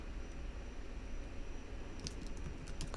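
Typing on a computer keyboard, faint key clicks over steady background hiss, with a brief flurry of sharper taps near the end.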